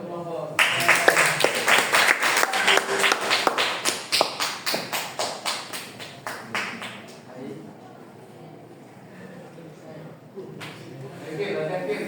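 Applause from a classroom audience after a student group's project presentation, a burst of clapping that thins into scattered claps and fades, with some talk and shuffling afterward.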